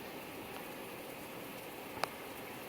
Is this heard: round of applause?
no